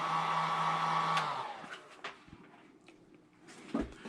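A hair dryer flash drying a pair of 1985 Air Jordan sneakers, a steady close whirring blast for over a second that then cuts off, followed by scattered light handling clunks.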